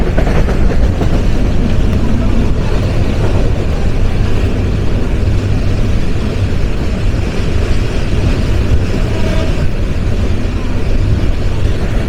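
Lalmoni Express passenger train running on rails, a loud, steady low rumble of wheels and carriage noise throughout, heard from on board with no clear breaks.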